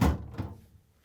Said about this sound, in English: now we're going to slide in the new crisper pan